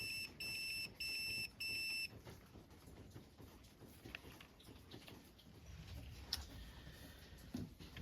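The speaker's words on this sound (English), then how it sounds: "it's a little tone. Tell you if you got continuity." Continuity tester on a boat's wash-down pump wiring giving three short, shrill electronic beeps in quick succession, then quiet handling noise and faint clicks from probing.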